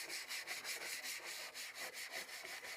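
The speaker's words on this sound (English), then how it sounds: "scrubbing seems to do the trick just fine" Quick back-and-forth scrubbing strokes rub Goo Gone residue off a Porsche 944 door panel, a fast rhythmic swishing heard close up and alone.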